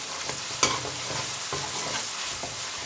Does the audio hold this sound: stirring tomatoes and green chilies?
yes